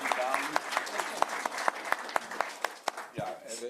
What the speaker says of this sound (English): Let's give him a big applause, and then we continue with the questions.